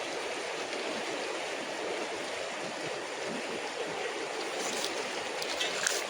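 River water flows steadily as cows wade across and drink, a soft, continuous rushing babble heard from the bank with a few faint splashes.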